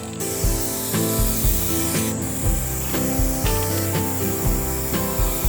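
A spray gun lays clear coat onto a red work truck in a series of hissing passes, each burst close and loud with a short stop between strokes.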